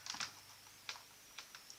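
Soft clicking on a computer keyboard or mouse comes in a few quick taps near the start, then scattered single clicks, faint and close in a quiet room.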